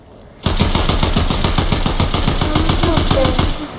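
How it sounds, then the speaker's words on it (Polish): Rapid automatic gunfire in Fortnite bursts in abruptly and rattles continuously for about three seconds, loud and close, in an even rapid rhythm before cutting back. "Wszyscy strzelają, a ja nie mam ani no, Nie, to ja się tylko z typami strzelam."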